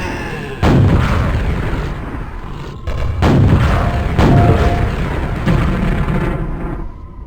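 Rocket launcher explosions from Quake played in VR, heavy booming blasts that go off in succession, loud and rumbling with long roaring tails that overlap and then fade.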